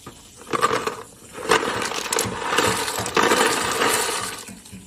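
Dry pasta poured into a soup pot for noodle soup, a few bursts of rattling, clattering pieces spilling in over about four seconds, close and fairly loud.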